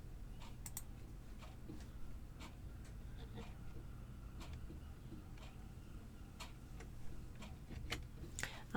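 Quiet, sparse key taps on a computer keyboard while numbers are entered, scattered individual clicks over a low steady background hum, with no talking.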